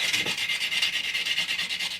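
Quick back-and-forth rasping of 400-grit sandpaper on electric guitar frets held in a fret vise, a steady scratchy rhythm of strokes, close up and fairly soft.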